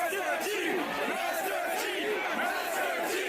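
Concert crowd cheering and shouting loudly, a dense continuous roar of many voices filling the space without pause.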